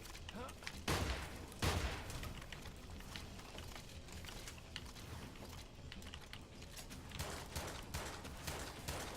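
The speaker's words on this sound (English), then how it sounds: "it looks like a shotgun from the ammo. Yep. Auto shotgun." Rapid automatic shotgun blasts from a game, two heavy booming shots standing out early followed by a steady clatter of quick repeated fire and mechanical clicks, fairly loud and dense throughout.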